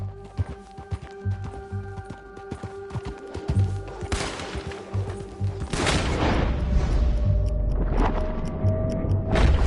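Gunfire from Red Dead Redemption 2 rings out in scattered cracks and bursts, with a boom and rumbling volleys growing denser toward the end over a steady game background.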